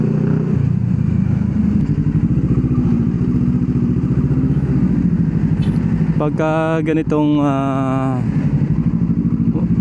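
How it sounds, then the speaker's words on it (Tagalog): A motorcycle ridden out on a fine-weather day gives a steady, close engine rumble throughout, swelling into a couple of rising revs near the end while someone talks over it. "magandang panahon, nagmumotor na lang tayo"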